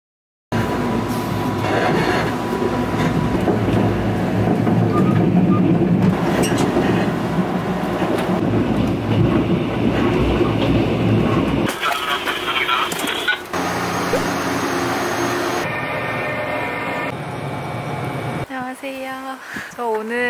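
A train runs at Mindungsan station in Korea with a loud, steady rumble and rattle of railcars, then the sound changes to quieter station noise, and a person speaks near the end.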